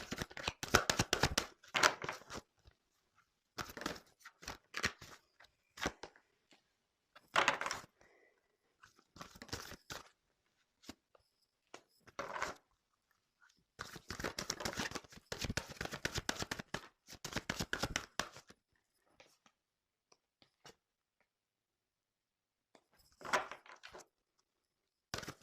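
Tarot cards being shuffled and drawn, heard as short bursts of crisp shuffling and card slaps separated by quiet pauses, close and fairly faint, with no talk over them.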